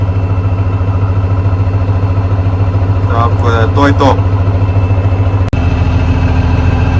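A YTO ELG 1754 tractor engine idles with a steady low, throbbing rumble throughout while someone speaks briefly over it, and a sharp click sounds near the end.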